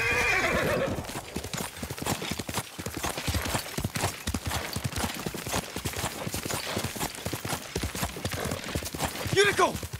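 Rapid hoofbeats pound in a continuous gallop in Ghost of Tsushima, with a horse's shrill whinny at the start and again near the end, loud and close.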